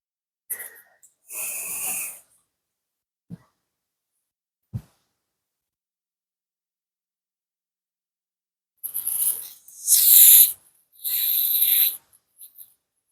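An aerosol spray is squirted into the pin sockets of a coil plug in several bursts of hiss: one short burst early, then three longer ones close together near the end, with a couple of small clicks between them.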